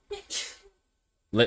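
A single sharp sneeze bursts out during a sports podcast discussion, followed after a brief pause by a person starting to speak.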